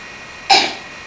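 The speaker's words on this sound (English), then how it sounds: "No, that's a cough." A child gives a single short, sharp cough close by, a quick burst that fades within a fraction of a second.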